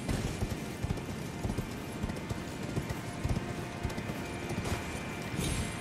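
Horse hooves gallop in the Elden Ring video game, a steady rapid clip-clop rhythm running throughout at moderate loudness, with ambient game sound underneath and no talking.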